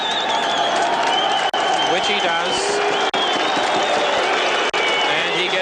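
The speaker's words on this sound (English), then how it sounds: "And he gets a rousing cheer for his courage." A soccer crowd at a 1983 National Soccer League match between Preston Makedonia and South Melbourne Hellas cheers and applauds steadily as a player returns to the field, a broad roar with a commentator talking over it.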